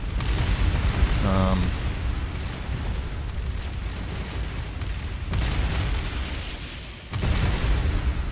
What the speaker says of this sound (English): Kind of concerning here with all the explosions